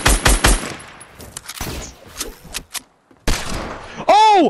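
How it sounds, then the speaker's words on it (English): Rapid bursts of heavy Fortnite hand cannon gunfire, loud and punchy, followed by a pause, another volley, and a whooshing electronic effect at the end. "I hit him with the hand cannon!"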